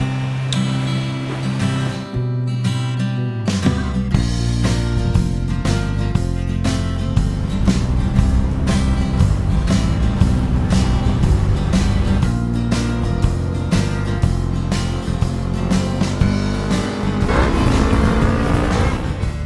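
Motorbike roaring past at reckless speed, engine revving loudly and close with rising and falling pitch, a sustained aggressive snarl throughout.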